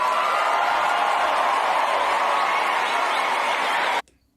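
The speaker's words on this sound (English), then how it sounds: "Are we clapping for that or are we clapping against that?" Studio audience clapping at a live comedy talk show, a dense, steady wash of applause held for about four seconds before cutting off abruptly to near silence.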